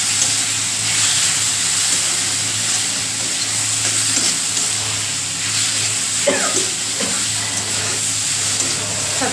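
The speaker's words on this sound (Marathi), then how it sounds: "डाळ आहे ना ती तेलामध्ये घालून घ्यायची चांगली" Split moong dal frying in hot oil for a tempering before chopped dill greens go in, giving a steady, close crackling sizzle with a few scraping stirs throughout.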